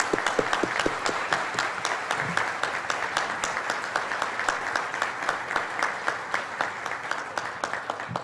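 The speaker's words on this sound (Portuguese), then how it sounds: "Queria pedir uma salva de palmas para eles." Audience applause fills a teacher-of-the-year tribute ceremony, a steady wash of many hands clapping at close range with dense, even rhythm throughout, no voices breaking through.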